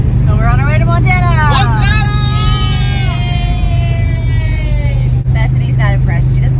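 A skoolie bus converted from a school bus drones steadily on the road during a trip to Montana, its low constant engine and road rumble running beneath loud voices talking inside.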